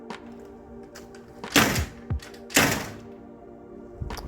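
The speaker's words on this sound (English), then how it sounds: "Let me go ahead and close this door." Someone closes a door onto a sidewalk beside a back patio. Two heavy, loud thunks land about a second apart, with a smaller knock between them and quiet rattles near the end.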